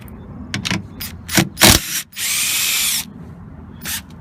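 Power tool spinning off 10mm mirror-stud nuts on a Dodge Dakota door, with short bursty whirs followed by a longer steady high-pitched run, then one final brief burst, close and loud with no talking.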